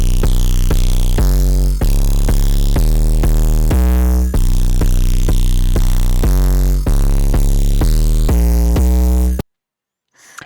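A hyperpop synth bass preset pounds out loud, heavily distorted sustained notes in a choppy pattern of changing pitches, then cuts abruptly to silence near the end.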